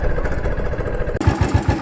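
A motorcycle engine idles steadily in a forest, its low, even throb continuing throughout and turning slightly louder and more pulsing toward the end, with no talk.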